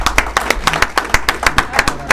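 A small group claps steadily, a run of sharp, evenly spaced hand claps close by.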